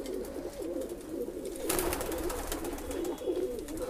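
Pigeons kept for sale in Bhopal coo in a low, continuous rolling murmur, several birds close together, with a brief flutter or rustle partway through.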